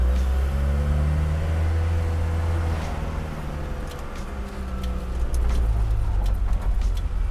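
A Mercedes G-Wagon 240GD diesel drives off-road in two-wheel drive, giving a steady, loud low engine drone with rumbling and faint rattles throughout, and no talk.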